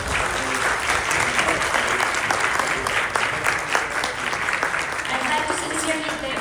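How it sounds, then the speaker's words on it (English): A warm round of applause for a political candidate after a chamber of commerce dialogue session, loud and sustained, dense clapping from a sizable audience throughout. "Shall we give him another warm round of applause?"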